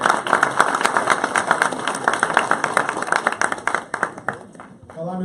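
A church congregation gives a sustained round of applause in honour of a pastor, dense rhythmic clapping that fills the room for several seconds before thinning out, with a voice coming in near the end.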